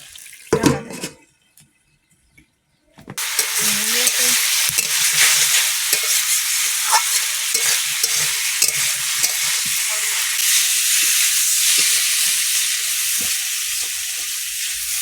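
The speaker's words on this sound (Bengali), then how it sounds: "ফ্রাই করে বেগুনটাও দিয়ে দেবো।" Eggplant hits hot oil with garlic in a pan after a brief clatter and pause. A loud, close, continuous sizzle follows, with occasional stirring scrapes.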